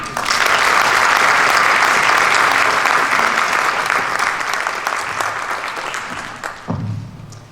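An audience at a Board of Education meeting applauds in a loud, full round of clapping that holds steady for several seconds, then thins out and fades near the end.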